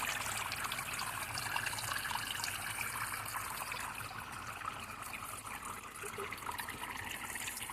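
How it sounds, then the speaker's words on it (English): A small waterfall trickles and splashes in a constant, even wash of water that stays moderately close and steady throughout, with no voices. "Let's look at this waterfall."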